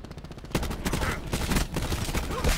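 Rapid gunfire in Call of Duty: Black Ops 4, bursts of automatic shots filling the whole stretch with dense, loud, overlapping reports and no talking.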